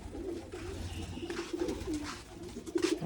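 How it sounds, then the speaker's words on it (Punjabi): Pigeons coo softly nearby in low, rolling phrases that repeat several times over faint background noise. "ਹੁਣ ਤਾਂ ਬੜੇ ਮਸਤ ਹੋ ਰਹੇ ਨੇ ਯਾਰ ਕਬੂਤਰ"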